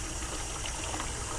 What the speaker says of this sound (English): and then fill the pot